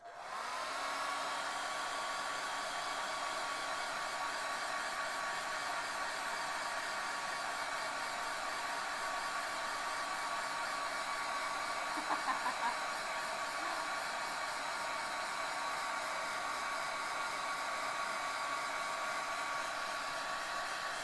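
A hair dryer blowing on fresh paint on a Morticia Addams painting, a loud, constant close-up whoosh of air that runs unbroken for about twenty seconds with a faint whine inside it.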